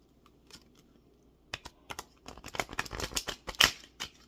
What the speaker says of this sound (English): shuffle it as chaotically as possible